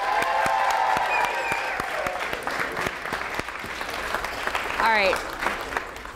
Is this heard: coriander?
no